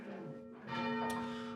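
A medium-weight English church bell, one of a ring of eight rung by rope, sounds a single clear, sustained stroke. It swells partway through and rings on with a long, steady hum.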